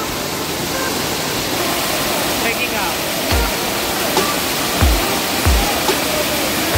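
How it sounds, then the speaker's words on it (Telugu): Kothapalli waterfall roaring as a dense, loud, continuous rush of falling water heard from close below, with occasional low thumps and people bathing and playing nearby. "వాటర్ ఫాల్స్ కిందకి అయితే వచ్చేసాం మనం"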